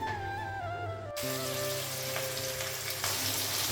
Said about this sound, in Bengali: আলুটা সজনে ডাঁটাটা লাগিয়ে দিয়েছি, হালকা একটু ভেজে নিব